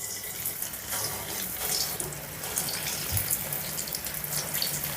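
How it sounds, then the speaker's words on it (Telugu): Idli batter bondas drop into hot oil to deep-fry, giving a continuous hissing sizzle with brief bubbling bursts, close and moderately quiet, with no talk. "ఇప్పుడు కొద్దిగా చేతికి తడి అంటించుకొని బోండాలు వేసుకుందాం."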